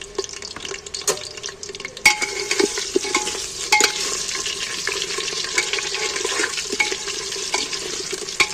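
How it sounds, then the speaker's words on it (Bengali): Potatoes fry in oil in a pan while being stirred, a steady hiss with scraping strokes and clatters that grows denser and louder after the first couple of seconds. "এগুলোকে একটু নাড়াচাড়া করে একটু বেশ ভালো করে ভেজে নেবো, লাল লাল করে।"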